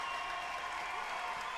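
A crowd at a kickboxing world title match applauds in a dense, even wash of clapping that holds steady across the short moment, moderately loud without distinct individual claps.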